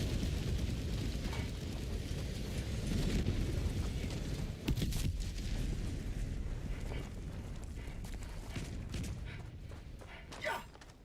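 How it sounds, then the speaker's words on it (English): A grenade blast in the video game Helldivers 2, heard as a dense rumbling boom that runs under the constant clatter of combat, with a sharper burst near the end. "Throwing grenade."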